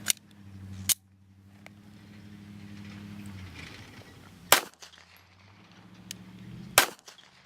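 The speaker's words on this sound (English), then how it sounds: "This is going to be out of the Glock 19 with the factory 4-inch barrel." A Glock 19 with a factory 4-inch barrel fires 158-grain 9mm subsonic hand loads, with sharp isolated shots spaced a few seconds apart over a low steady hum.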